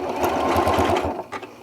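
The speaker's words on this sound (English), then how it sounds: "This particular zigzag stitch starts at the right hand side and it goes back and forth." A sewing machine runs fast while stitching a zigzag stitch along the edge of a fabric appliqué, giving a close, steady mechanical whir with a quick pulsing rhythm that briefly slows near the end.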